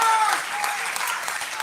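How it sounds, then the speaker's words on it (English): Audience applause at a live California governor candidates' showdown, a steady wash of many hands clapping at moderate level for just under two seconds, with a faint voice underneath. "Let's give them a round of applause for those first 3 questions."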